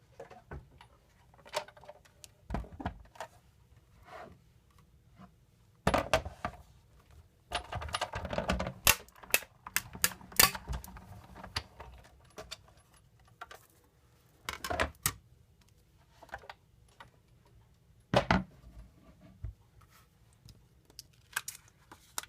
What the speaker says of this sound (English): we're going to run this through the Big Shot.